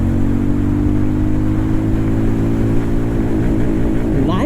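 A Hero Maverick 440 motorcycle pulls hard in third gear, its engine a steady, loud drone that climbs in pitch throughout with constant wind rush, and the revs shift near the end as the ride continues.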